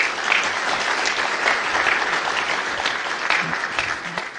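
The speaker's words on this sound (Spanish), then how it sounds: "Un aplauso para él, por favor." A room of attendees at a society's 25th anniversary gathering applauds for a short stretch, dense and steady clapping with no talk over it.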